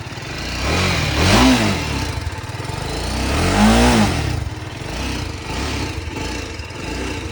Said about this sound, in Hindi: इस वाली बाइक में बेसी आवाज़ दी है अब की बार।